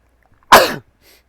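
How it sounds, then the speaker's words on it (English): One sharp, close sneeze bursts out in the quiet, a short loud explosive blast that fades quickly. "I didn't mean to sneeze in everybody's ears."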